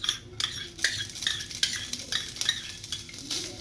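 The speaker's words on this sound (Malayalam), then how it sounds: "ഞാൻ പാവയ്ക്ക ചേർക്കുകയാണ്." Bitter gourd stirred in ghee in a pan for payasam, a utensil scraping and clinking against the pan in quick repeated strokes over a faint sizzle, close and fairly quiet.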